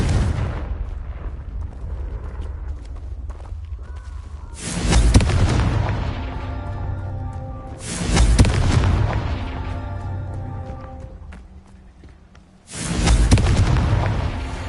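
Confringo spell blasts in Hogwarts Legacy go off as three heavy booming explosions a few seconds apart, each a loud burst that rumbles and fades, with quieter ambient game sound in between.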